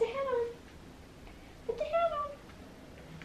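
A cat meows twice while playing with a hat, with a drawn-out cry at the start and a second rising-falling meow midway, close by, and a person talking softly around the cries.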